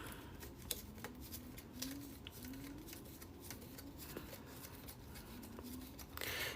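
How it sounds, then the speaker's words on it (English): Paper cake topper pieces for a Flintstones design are folded by hand, giving soft, quiet crinkling and creasing with small taps and a faint repeating whir in the background. "let's go ahead and continue folding everything"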